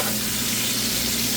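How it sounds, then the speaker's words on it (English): Ground beef fries in a pan with a steady, close sizzle that runs evenly through the whole short stretch, with no voices over it. "Now I'm cooking the ground beef,"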